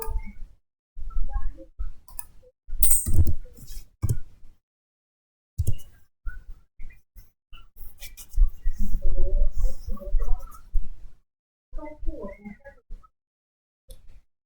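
Rapid keyboard clicks in irregular bursts with pauses as commands are typed to configure spanning tree on a network switch, close and fairly clear.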